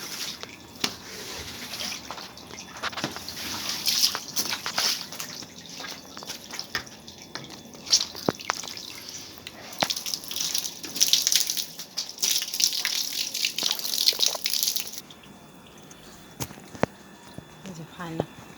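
A balcony floor is washed down with water, with irregular splashes, drips and trickles coming close and fairly quiet, broken by scattered sharp knocks and scrapes, with a voice talking at times.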